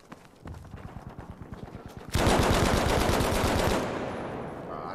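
Rifle fire in Battlefield V multiplayer: a rapid string of quieter shots, then a loud, dense volley of repeated gunfire that holds for about two seconds before fading into a softer echoing tail.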